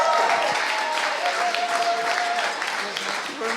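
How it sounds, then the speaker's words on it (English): A sales conference audience gives a warm round of applause for a guest speaker, a dense, steady wash of clapping with a voice faintly audible beneath it. "So we can have a big round of applause for Bryan,"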